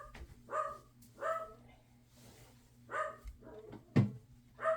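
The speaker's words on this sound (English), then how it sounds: "They're barking at Daddy." Two dogs bark in a room indoors, a series of sharp, moderately near barks spaced about a second apart, with a low hum underneath.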